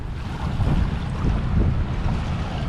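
Gusty wind and rough waves sweep across Manila Bay at Dolomite Beach, a steady, close rumble of wind on the microphone with surf surging in soft swells beneath it.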